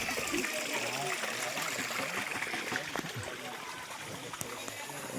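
Water flowing steadily at a forest check dam in the Konkan countryside, a continuous nearby trickling and rushing wash that runs for the whole stretch while someone talks over it.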